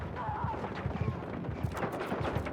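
Rapid gunfire in the video game Battlefield 6, a dense run of sharp shots and bursts throughout, close and loud, with faint voices underneath.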